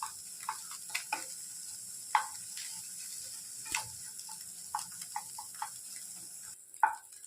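Egg frying in oil in a pan, a soft low sizzle broken by scattered sharp pops and light clicks, heard alone without talk.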